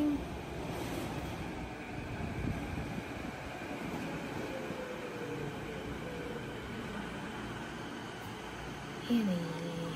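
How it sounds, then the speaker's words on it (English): A Vancouver SkyTrain approaches a station, a steady rumbling roar of wheels and rails that holds for several seconds, with a brief rising whine near the end. "The sky train is approaching."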